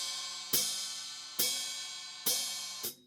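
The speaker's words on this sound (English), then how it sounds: "it has a splashed hi-hat, and that sounds like this." Four sharp hi-hat splashes on a drum kit, each struck by tapping the hi-hat closed and releasing it so the two cymbals ring and shimmer before fading, spaced about a second apart, close and alone.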